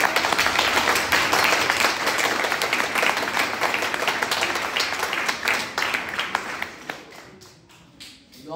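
An audience applauds at a music school Christmas concert, dense sustained clapping from many hands that holds strong for several seconds and then thins out into scattered claps near the end.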